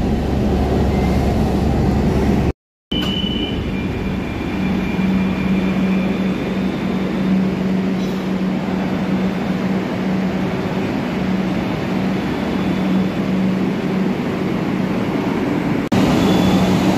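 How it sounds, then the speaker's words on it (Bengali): A Kolkata Metro train on the Kavi Subhash to Hemanta Mukhopadhyay line runs with a continuous loud rumble and steady motor hum, briefly cut by a short gap, with no talk. "তো বন্ধুরা দেখতে পেলেন আপনারা ট্রেনটা চলে গেল পেছন দিকে।"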